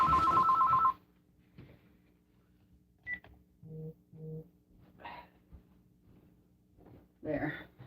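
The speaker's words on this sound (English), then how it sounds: "Oops, there's the telephone. Sorry guys, I'm just going to let it ring." A home telephone rings several times in short electronic bursts in a quiet sewing room, moderately near, with brief pauses between rings.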